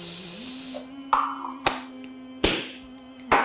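Half a second of hissing cooking oil spray from a can, then silence broken by several sharp taps and clatters, up close under a faint steady hum.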